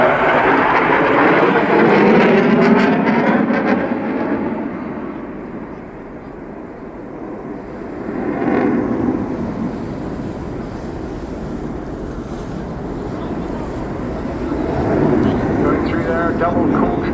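A Eurofighter Typhoon jet roars through an airshow display over the English Riviera, a loud, continuous rumble that swells and fades as it passes, with a commentator talking over it.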